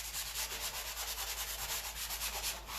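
Wood surface being worked by hand with a sanding brush, a rhythmic rasping scrub of quick back-and-forth strokes, close and steady throughout with no talk.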